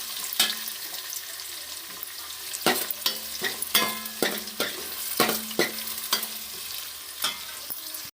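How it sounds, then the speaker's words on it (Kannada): Onions with mustard seeds frying in a pan for soya chunks masala, a moderate sizzle punctuated by repeated sharp spatula scrapes and clinks against the pan, near and without speech. "ಈಗ ಈರುಳ್ಳಿ ಫ್ರೈ ಆಗ್ತಾ ಉಂಟು"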